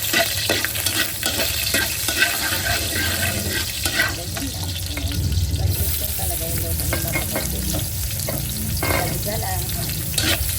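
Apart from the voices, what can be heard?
vegetables sautéing in a pan for menudo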